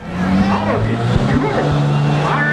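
A diesel pulling truck revs hard as it heads down the track at a night truck pull, a loud droning engine with rising pitch sweeps, under an announcer's commentary.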